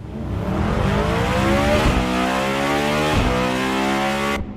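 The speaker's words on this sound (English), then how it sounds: "Bugatti has killed the Chiron, and its iconic quad-turbo W16 engine is dead too." A new Bugatti hypercar with a V16 engine revs hard, its pitch climbing and dropping through several loud sweeps, close and alone with no voices.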